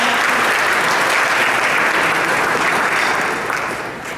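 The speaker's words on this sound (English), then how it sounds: "I want to give them all a round of applause" Dense, steady applause from a dinner audience at an athletic hall of fame and awards event, honouring student athletes, loud and uniform before tapering slightly at the end.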